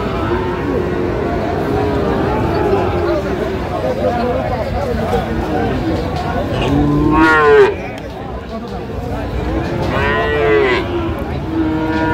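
A Friesian bull moos twice amid a busy cattle market in Natore, Bangladesh, with crowd chatter and background noise throughout.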